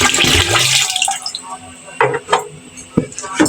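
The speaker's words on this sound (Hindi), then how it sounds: "इसमें मैं 5 गिलास पानी के शामिल कर लूँगी" Water is poured from a glass into a cooking pot holding two kilograms of bones, splashing and gurgling in uneven bursts at close range, with brief pauses between pours.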